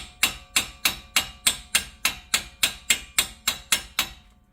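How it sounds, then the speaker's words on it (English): A hammer lightly strikes a Jeep Wrangler front axle part during a rebuild: about a dozen evenly spaced, ringing metallic taps, loud and close, each decaying quickly, with no talk. "we're just going to lightly hit that with a hammer"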